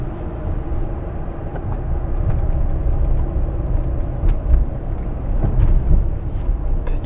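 A front-wheel-drive Toyota Tundra accelerates up a highway on-ramp, with a loud, steady engine and road roar, a few light rattles, and no talking.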